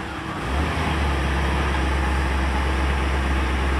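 A stock 1984 Corvette with Crossfire Injection idles on an ice-cold start: a steady, loud, low engine rumble that swells up in the first half second, then holds smooth and even close by, with no talking.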